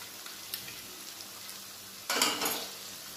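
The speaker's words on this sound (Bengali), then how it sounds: "এবার আমি মশলাটাকে ভালো করে কষাবো।" Spices frying in a pan for aloo dum, a soft low sizzle with faint clinks that swells into a louder stirred crackle near the end.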